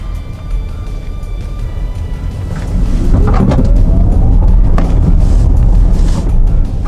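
A 2024 Zeekr 001 electric car in YOU trim, all-wheel drive with a 100 kWh battery and 22-inch wheels, accelerates hard. Its broad road and motor roar swells louder midway and stays up close, with a rising whine and no voices.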